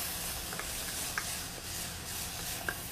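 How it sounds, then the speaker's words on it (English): Capers, onions and brown sugar stirred in a hot pan give a steady close sizzle, with a few soft scraping clicks of the spoon breaking through at irregular moments. "you just want to give it a quick stir"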